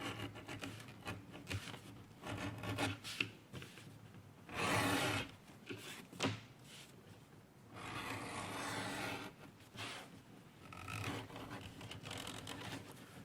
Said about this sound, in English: we give it a bevel fore and aft, get rid of that square edge